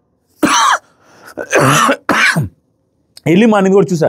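Several harsh coughs and throat clearing in short bursts, loud and close, separated by brief pauses.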